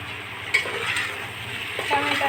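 Tomatoes tossed into a pan of frying okra curry, setting off a steady broad sizzle with a few stirring scrapes and a light clink of utensils, close and moderately loud throughout.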